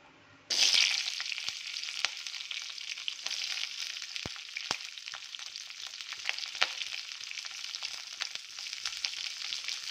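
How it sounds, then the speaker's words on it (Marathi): Green chilies and garlic roasting in a little oil in a wok for a raw mango thecha, giving a loud, steady close sizzle with frequent crackles and pops throughout. "मी गॅसवर कढई ठेवली आहे त्यात थोडंसं तेल ॲड केलं आहे आपण छान मिरची लसूण छान असं भाजून घेऊया"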